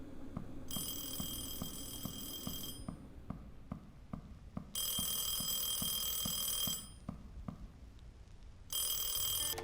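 A telephone rings in repeated long bursts, three bright trilling rings separated by pauses, fairly loud over a steady rhythmic low thumping background; no talking.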